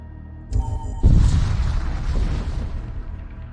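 A bolt cannon fires in a sci-fi video game, a sharp pop followed by a heavy booming blast that rings out and slowly decays.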